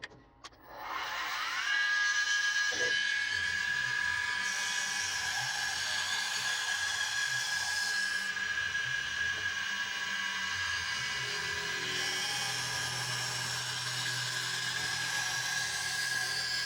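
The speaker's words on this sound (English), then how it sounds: "to clean up all this mess, I prefer to use my milling machine" Milling machine cleaning up a 3D printed part for a pendant kit, a steady high-pitched whine with a sustained tone running unbroken and fairly loud after a brief start-up.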